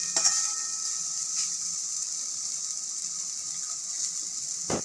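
Onion and green chilli frying in oil in a pan, a soft, steady hiss of sizzling with a few light clicks of stirring, fairly quiet and heard alone without any voices.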